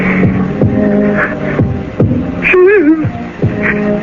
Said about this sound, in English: It's not her heart that's beating. It's mine.